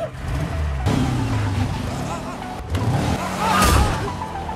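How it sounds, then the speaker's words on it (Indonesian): A car speeding away in an action film chase, engine roaring and revving in loud surges over a dense soundtrack with scattered voices, two sharp cuts breaking the flow. "Joe langsung meloncat ke mobilnya. Dia langsung pergi dan mengendarai mobil baginya dan kabur."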